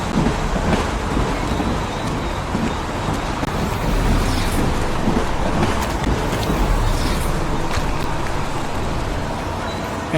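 Steady heavy rainfall in the Heavy Rain video game, a dense continuous hiss and rumble at constant loudness throughout, with no voices.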